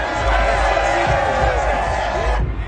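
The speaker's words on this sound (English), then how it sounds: "that might be exactly what they needed to wake up this home crowd" A home stadium crowd cheers in the video game Madden 22 after a big football play, a loud sustained roar that fades slightly near the end, with commentary faintly beneath.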